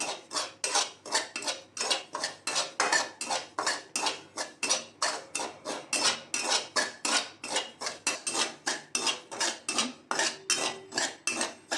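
Semolina (rava) roasting in a pan for sheera, stirred briskly with a spoon: a rapid, regular series of dry scraping strokes, loud and close, with no talking.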